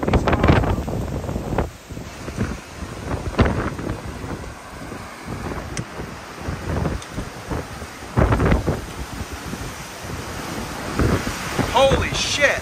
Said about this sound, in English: That's probably 70 mile per hour wind, if I had to guess.